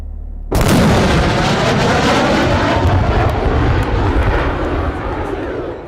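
A loud jet roar bursts in suddenly and holds as a broad, rumbling blast with booming undertones, fading only slightly toward the end.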